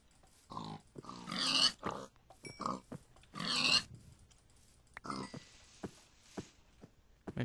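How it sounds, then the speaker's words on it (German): Pigs in Minecraft oinking in a cluster of short grunting calls, several bursts spread across the stretch with brief gaps, fairly close and clear, alongside small game clicks. "Und hier sind noch mal ein paar Schweine."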